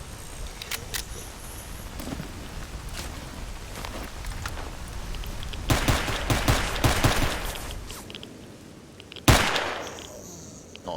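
Gunfire in S.T.A.L.K.E.R. Anomaly: scattered sharp shots over a low ambient bed, then a dense burst of rapid fire around the middle and one loud, close crack near the end.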